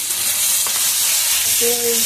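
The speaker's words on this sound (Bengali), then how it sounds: "সেই সেদ্ধ আলুটা আমি একটু ভেজে নিচ্ছি ভালো করে" Boiled potato fries in hot oil with a dense, steady sizzle and crackle, close and loud throughout, with a faint tonal squeak near the end.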